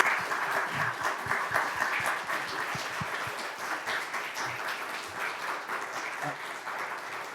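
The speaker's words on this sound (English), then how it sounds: "Let's give her another round of applause." Audience applause at the close of a conference panel, a steady, dense round of clapping from a sizable crowd, moderately loud and sustained throughout with no break.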